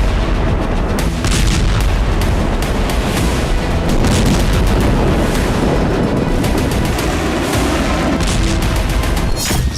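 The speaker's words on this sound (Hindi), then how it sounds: "जमीन पर बम धमाके हो रहे हैं।" Dense, continuous booming blasts and crackling rumble of bombs exploding on the ground during Israeli airstrikes on Lebanon, loud and relentless like heavy bombardment close by, with no voices.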